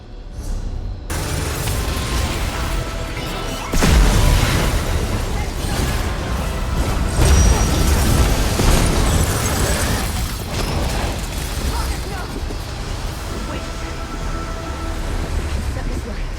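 Heavy booms and bursts ring out from Abolisher destroying portals in an Elder Scrolls game fight against Shardmarshal Vargas, with a sharp loud blast near four seconds over a dense, continuous wash of battle noise.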